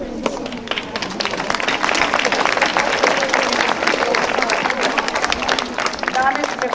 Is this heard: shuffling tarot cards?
no